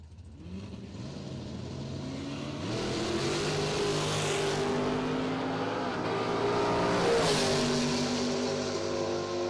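A Camaro at a drag racing event launches hard down the track, its engine roaring loudly and steadily with rising revs, building in intensity through the run.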